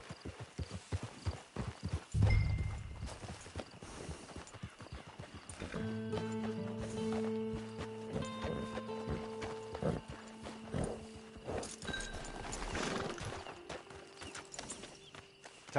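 Steady hoofbeats clip-clop along at a walking pace in the video game Red Dead Online, with a horse's whinny and soft mechanical clicks and creaks in the background.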